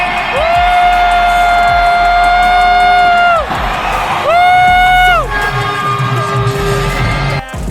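Fans of Gilas Pilipinas cheer loudly in an arena during a basketball game against Chinese Taipei, a dense roar of screams and shouts that rises and falls, with sustained tones sounding through it.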